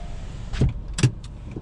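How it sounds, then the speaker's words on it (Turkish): A Hyundai Bayon 1.4 with a torque converter automatic transmission gives two short mechanical clunks a moment apart as it is shifted into reverse. The clunks are close and fairly loud inside the cabin, with no talking. "R'ye takınca dınk etti."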